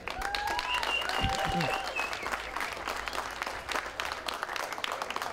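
A wedding crowd in Israel claps steadily and loudly throughout as the rings are presented to the groom, with a few whoops and voices rising above the applause.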